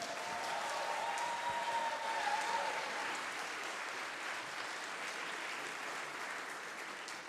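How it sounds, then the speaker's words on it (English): An audience at a games conference talk gives a sustained, warm round of applause, dense clapping that fills the hall and slowly tapers. "That was an intimidatingly warm round of applause."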